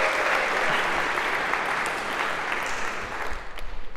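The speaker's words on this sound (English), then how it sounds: "A round of applause" Lecture-hall audience applauding a student volunteer coming up on stage, a steady dense wash of clapping that holds throughout and thins slightly near the end.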